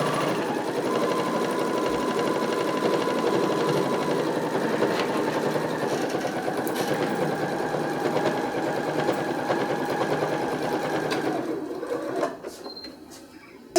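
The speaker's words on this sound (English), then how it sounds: "I'm just going to push the needle out of the way. And I'll continue top stitching" A sewing machine runs steadily, top stitching a zippered bag, its needle whirring in a continuous close drone for about eleven seconds before slowing and stopping near the end.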